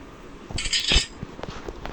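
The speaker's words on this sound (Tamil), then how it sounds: "இப்போ அந்த ட்ராப் சத்தம் கேட்டு கிராணி வரும்." A trap snaps shut in the horror video game Granny with a bright metallic clank and jangle. A couple of faint knocks follow.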